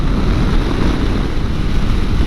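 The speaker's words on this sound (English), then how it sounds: "I just figure wind noise is part of riding a motorcycle" Loud, rushing wind roars against the microphone continuously, a heavy low buffeting with no voices, while riding a 2022 Yamaha Tenere 700 motorcycle at speed.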